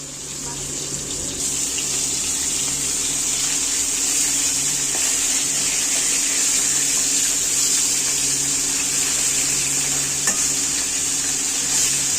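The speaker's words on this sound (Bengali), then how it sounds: "কড়ার তেল দিয়ে দিয়েছি মাছগুলো ভেজে নিচ্ছি" Turmeric and salt coated fish frying in oil in a wok, a loud, constant close sizzle that holds steady throughout with no talk.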